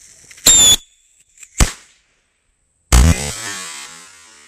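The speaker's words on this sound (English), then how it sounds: "Next, we're gonna tape these bottle rockets to her. All we have to do is light her up." Bottle rockets taped to a doll go off: a sharp whistling pop, a second short crack, then a louder bang with a trailing fizz and rumble, separated by near-silent gaps.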